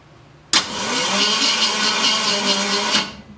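A starter cranks a Ford 390 V8 engine in one continuous, loud, close whirring burst of about two and a half seconds that stops abruptly without the engine catching.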